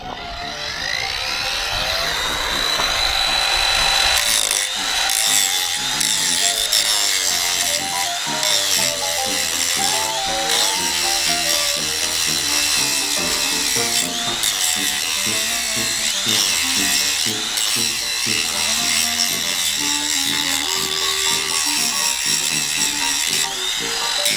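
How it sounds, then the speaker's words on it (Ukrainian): A Star Pro SAG3-21 cordless angle grinder whines at high speed as it grinds against metal, the pitch shifting with pressure in a continuous loud, rough buzz. "давайте попробуємо, як шліфує метал"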